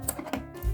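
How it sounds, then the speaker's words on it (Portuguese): Scissors snip through a long strand of yarn while making an amigurumi ballerina bunny: two quick, crisp close clicks in a short burst. "E agora vou cortar uma linha relativamente comprida"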